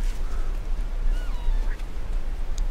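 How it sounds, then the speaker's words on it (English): Bird creature in No Man's Sky giving short quacking, duck-like calls over a low rumbling background, moderately loud and close, with no talk. "Bird freed itself on there, but decided to ram its head into the framework there."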